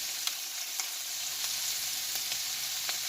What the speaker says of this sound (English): add in some of my fresh garlic